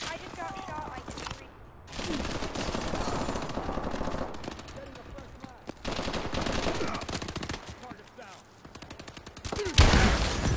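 Automatic gunfire rattles in rapid, dense bursts in the Advanced Warfare video game, sustained for long stretches with brief pauses, while a player talks over it.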